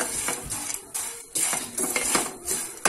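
Maggi noodle pieces are tossed in a hot pan, with repeated clinks and scrapes of a metal utensil against the pan in an uneven rhythm, close and moderately loud.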